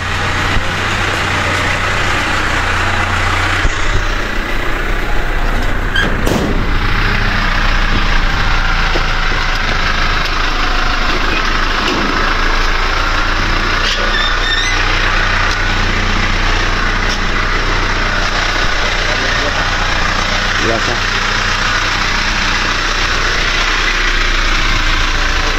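A motorcycle engine idles at close range, loud and steady throughout, with rattling, splintery clatter and a few sharp knocks over the running motor.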